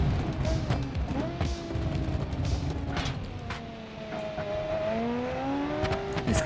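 A car crashing and grinding in the BeamNG driving game: steady engine roar with whining, sliding pitch and scattered knocks and thuds, loud and continuous throughout.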